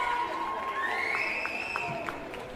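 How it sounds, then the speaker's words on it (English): Crowd at a JV boys volleyball match cheering and shouting in a sustained, moderately loud swell of voices with a few high-pitched yells rising above it. "Hear the Leo faithful in the crowd."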